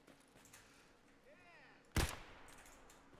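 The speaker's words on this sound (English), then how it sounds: "might as well be using this SKS on these scavs" A single sharp SKS rifle shot from Escape From Tarkov cracks out loudly over quiet in-game ambience, with a faint whistling tone just before it.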